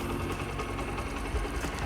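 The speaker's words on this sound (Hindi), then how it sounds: "तो यहाँ से इंजन स्टार्ट हो गया है" A Bajaj motorcycle engine runs steadily at idle in neutral just after a kick start, a continuous close, even mechanical chugging with no talking over it.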